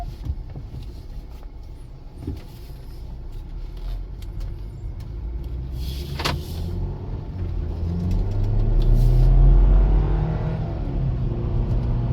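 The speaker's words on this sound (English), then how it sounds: "All right, vehicle takes off nice." A 2017 BMW X3 xDrive pulls away, its engine a low, steady rumble that swells and deepens as the SUV accelerates, peaking near the end before easing slightly.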